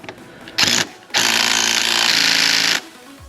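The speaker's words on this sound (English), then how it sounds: "I like impact drills, it makes your life a lot easier." An impact drill hammers at bolts on a 2022 Vitacci Titan 250 motorcycle, first a short loud burst, then a longer rattling run of about a second and a half, close and harsh.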